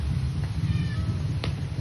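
A pet cat gives a single soft meow, faint and brief against a steady low background hum, with no voices.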